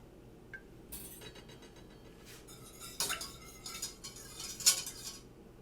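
A spoon stirs a vanilla mixture heating in a pan for choux pastry, producing a few sparse light clinks and scrapes of metal on the pan, quiet and close.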